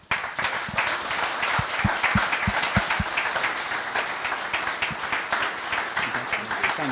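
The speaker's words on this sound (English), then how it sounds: "Please join me in a round of applause as I invite Dame Judith up to say a few" Sustained audience applause greets Dame Judith Hackitt at a CIBSE Honorary Fellows ceremony: a dense, steady wash of many hands clapping, with a few sharper individual claps standing out near the start and no voices.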